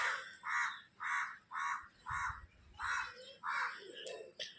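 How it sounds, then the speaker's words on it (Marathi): A crow caws about eight times in an even, steady rhythm, each harsh call clear but a little distant. "कावळा बघू शकता"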